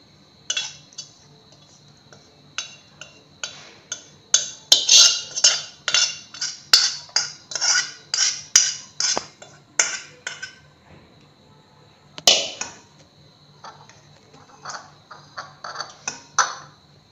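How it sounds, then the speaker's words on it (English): Light metal utensils clink and tap repeatedly against a strainer while homemade mosquito-repellent oil is strained, a close series of sharp irregular chinks with brief pauses, no talking. "The oil will be extracted using a strainer."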